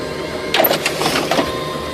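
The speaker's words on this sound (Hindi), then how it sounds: "प्रिंटर में अटका हुआ कागज पूरी तरह से बाहर निकल गया" A printer pushes out jammed paper in an office, a steady mechanical whir with a few brighter feed bursts in the middle, moderately close and without talk.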